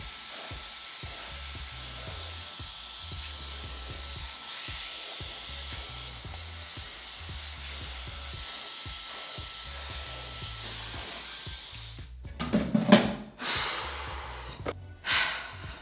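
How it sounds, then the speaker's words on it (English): A hair dryer blows steadily while drying dyed hair during a colour correction, a constant close whooshing hiss, then it stops and brief handling noises and breaths follow. "Now I'm going to dry the hair slightly and apply this"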